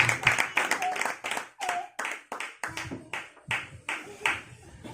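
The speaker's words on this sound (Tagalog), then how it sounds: "Pumalakpak po muna lahat sa Panginoon." A church congregation at a Filipino worship service claps in a steady, rhythmic beat for several seconds, moderately close, with faint voices mixed in.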